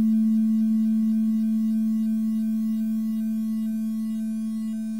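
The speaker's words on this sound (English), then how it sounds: "So that's Genesis Model 2 distortion." A steady buzzing tone with a strong low hum and a stack of harsh harmonics from a Sega Genesis Model 2 console's audio distortion, sustained without pause and slightly fading toward the end.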